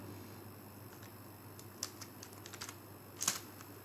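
Python code being typed on a computer keyboard, heard as faint, sparse key clicks with a small burst of keystrokes near the end over a quiet room hum.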